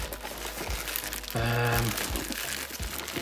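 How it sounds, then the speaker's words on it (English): Cellophane wrap is peeled off a DJI Mini SE drone box, giving close crinkling and crackling plastic for a few seconds, with a short tearing squeak midway. "So satisfying taking the cellophane off."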